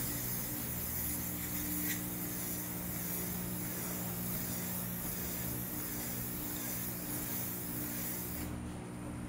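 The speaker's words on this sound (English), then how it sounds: "I can't hold it up while I'm spray painting" A spray can continuously coats a rolling tray in a steady, close hiss that runs unbroken for several seconds before cutting off near the end.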